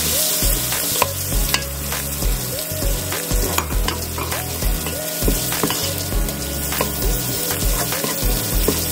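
Garlic and ginger fry in a pan with a loud, busy sizzle while a utensil knocks and scrapes repeatedly, and steady music plays underneath.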